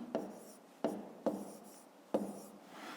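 Handwriting numbers for a fifth-grade math exercise: four distinct pen strokes on paper, each a quick scratchy onset trailing into soft rubbing, close and quiet.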